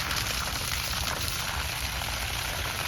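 Water pours steadily over a struggling, transplanted star apple tree, a continuous close hiss and splash with no pauses and no voices.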